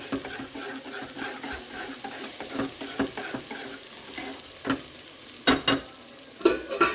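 Spice powder being stirred into vegetables cooking in a pan, a steady sizzle with scraping stir strokes that grow louder and sharper toward the end, no voices.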